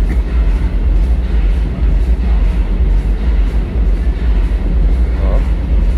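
A subway train rumbles at a Chicago platform, a steady low roar filling the station throughout, with faint voices mixed into the din.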